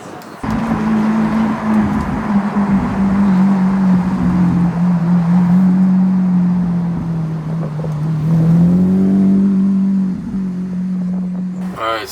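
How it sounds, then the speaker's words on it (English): Chrome multicolor Mercedes G63 4x4 squared on a test drive, a steady low engine drone with road and wind noise running throughout, rising briefly in pitch near the end. "We are test driving it right now, making sure there's no errors, everything works"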